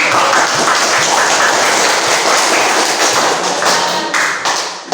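A class bursts into dense, loud applause after a group presentation, with close, rapid clapping filling the room for several seconds before easing slightly at the end.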